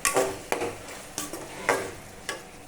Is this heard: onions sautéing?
yes